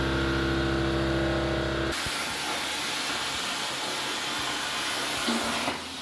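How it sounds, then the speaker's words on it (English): A CNC plasma table cutting a steel plate gives a loud, steady roaring hiss that runs unbroken for several seconds after a brief humming start. "Andy and Ben used something called a CNC plasma table to cut out a steel plate."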